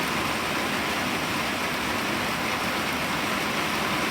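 Steady rain on a stormy spring evening, a dense, constant hiss that fills the scene evenly with no pauses or voices.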